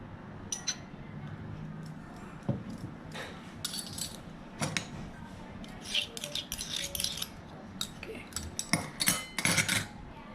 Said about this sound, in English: Mix all the ingredients together.